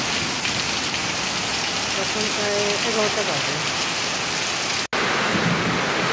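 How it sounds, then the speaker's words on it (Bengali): Heavy rain pours down steadily around a rural home, a dense continuous hiss close by, while a person speaks briefly over it partway through. "প্রচুর বৃষ্টি হচ্ছে"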